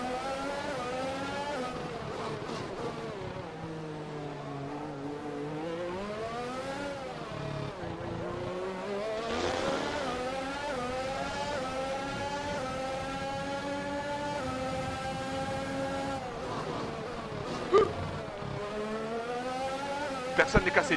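Formula 1 car engine in the F1 2021 video game at Monaco, a sustained high-pitched whine rising and falling through gear changes as the car accelerates and brakes, with voices talking over it.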